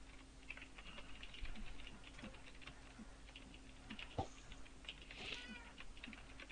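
Minecraft cat meows sound a few times, faint and brief, amid soft keyboard typing and light clicks in a quiet game session.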